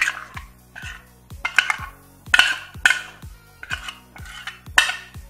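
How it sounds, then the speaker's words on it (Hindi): A spice mixture is scraped into chicken in a metal pot, with a spoon striking and scraping the rim in a steady series of about eight sharp, ringing clanks, close and fairly loud. "ये मिक्स हो गया तो अभी मैं ये इस चिकन में डाल रही हूँ."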